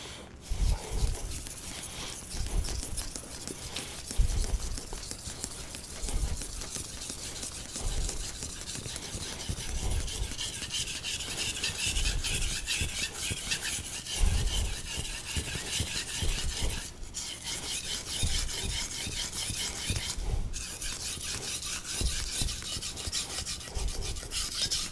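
Kitchen knife sharpened on a Japanese natural whetstone, a continuous gritty rubbing rasp with rhythmic back-and-forth strokes, close and steady, no talking.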